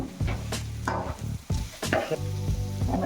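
Tomatoes for upma fry in a pan while a spoon stirs them, making repeated scraping knocks over a low sizzle, close up and fairly quiet.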